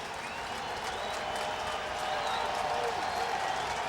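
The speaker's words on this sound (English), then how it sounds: "with the crowd standing and roaring at Commonwealth Stadium" A packed college football crowd at Commonwealth Stadium stands and roars, a broad, continuous wash of cheering and clapping that swells slightly toward the end.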